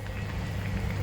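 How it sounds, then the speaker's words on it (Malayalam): Fish curry simmering in a covered clay pot over a low flame, a dense, continuous bubbling hiss, close and steady throughout the short stretch. "നല്ലപോലെ തിളച്ചിട്ടുണ്ട്."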